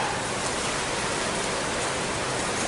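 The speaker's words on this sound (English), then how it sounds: "It's raining right now." Steady rain falls, a dense, even hiss with no breaks through the whole short stretch.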